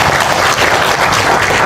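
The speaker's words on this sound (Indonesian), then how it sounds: "Tepuk tangan buat semuanya." Brief burst of loud, dense applause from an audience at a Muhammadiyah political gathering, close and continuous for under two seconds.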